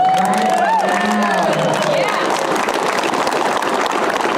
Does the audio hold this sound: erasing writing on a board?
no